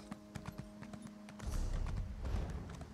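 Hooves clip-clop at a steady rhythmic pace from a horse in the video game The Elder Scrolls Online, first crisp and sparse, then thicker and faster as the mount picks up speed, moderately close.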